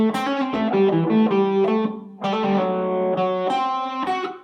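Distorted electric guitar with chorus and effects playing blues guide-tone chord voicings, including a dominant 7th, a 13th chord and a slide back to the I chord, sustained and ringing with a brief pause midway.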